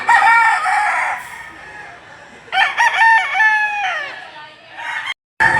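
A golden boy sweater gamefowl rooster crows loudly at the Lipa livestock auction market in Batangas, giving one long crow, then after a pause another drawn-out crow, with a brief cut near the end.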